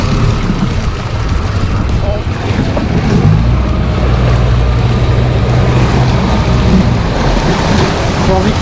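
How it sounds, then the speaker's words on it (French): A fishing boat's motor drones steadily while trolling for barracuda along the coast, a low continuous engine rumble mixed with wind and water noise, close and fairly loud. "J'ai envie qu'il vienne dans le moteur."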